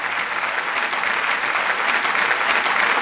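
Audience at a Dubai mushaira and kavi sammelan applauding to welcome a poet, a continuous, even wash of many hands clapping with no voices over it.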